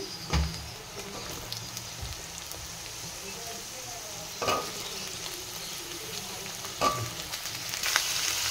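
Ridge gourd with fried onion and chilli sizzles steadily in a pan, a continuous crackling hiss with a few louder clatters of stirring at intervals.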